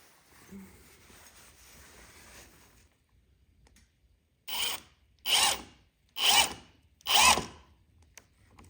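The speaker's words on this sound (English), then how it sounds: "now we are drilling the next 4 pilot holes" After a quiet stretch, a power drill whirs in four short, evenly spaced bursts drilling pilot holes, close and loud.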